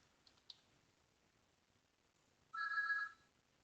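A telephone in a quiet room gives one short electronic ring burst lasting about half a second, after a couple of faint clicks, with no talk around it.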